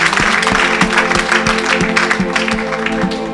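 A church congregation applauding at a Thursday service, rhythmic clapping at a fairly steady beat with a murmur of voices over a sustained musical drone.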